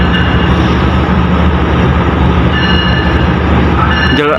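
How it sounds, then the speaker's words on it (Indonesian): The Sancaka passenger train from Yogyakarta rolls into Surabaya Gubeng station, a loud, steady rumble of wheels and engine that fills the space without a break, with a brief metallic screech at the very end. "masuk kereta api Sancaka dari stasiun Yogyakarta dengan tujuan akhir stasiun Surabaya Gubeng"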